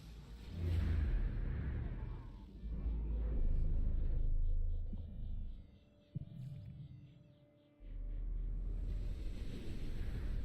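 Storm weather in the video game No Man's Sky: a deep, loud wind rumble and whooshing gusts that swell, drop away briefly near the end, then return strongly, with no voices.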